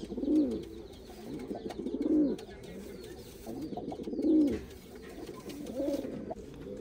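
Pigeons coo in a loft, a light khaira cock and hen among them, with repeated soft throaty coos rising and falling every couple of seconds, close by and fairly quiet, a faint chirp or two in the background.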